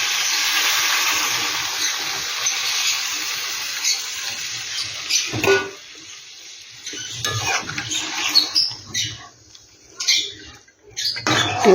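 Warm water pours into a pan of bhetki fish kanta chorchori as it cooks, a steady hissing splash that gives way after a few seconds to scattered bubbling and light clinks.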